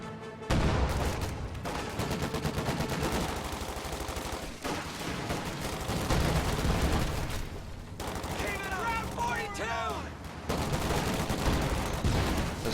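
An anti-aircraft half-track in a World War II strategy game fires on a church, with sustained rapid bursts of automatic gunfire and explosions that stay loud and continuous, broken by short pauses.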